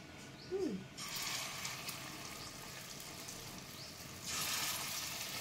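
Lentil batter fritters fry in hot oil in a wok, a soft continuous sizzle with a faint bubbling hiss that swells louder near the end as more batter goes in.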